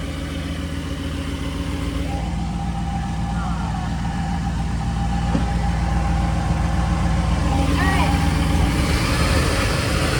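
A van engine runs loudly and steadily throughout, its pitch rising slightly as it revs up, with a voice speaking briefly over it.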